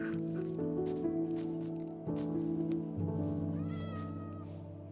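Minecraft cat meowing in a video game, a few short mews rising over steady layered background game music, no speech.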